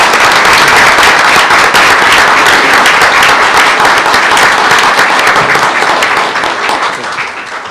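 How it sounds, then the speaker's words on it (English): At a school board meeting, a crowd gives a middle-school student a loud, dense, continuous round of applause that holds strong for several seconds before fading toward the end. "Let's give Gracie a round of applause."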